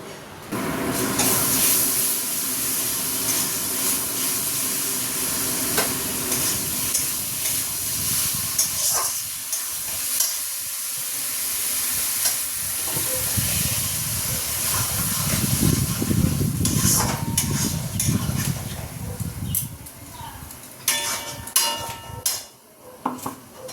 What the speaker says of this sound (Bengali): এদিকে তো বড়ার তরকারিটা বসিয়ে দিয়েছি